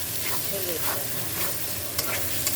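A spice paste of ginger, turmeric and chilli powder fries and is stirred in a pan for tangra fish curry, giving a dense, continuous sizzle with scraping stir sounds throughout.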